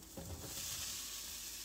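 Peeled, cleaned apple pieces hit a dry frying pan and start a soft, steady sizzle that carries on evenly, with a brief stirring clatter near the start.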